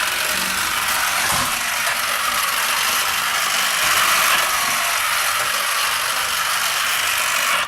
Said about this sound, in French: cette partie-là tourne pendant que le véhicule roule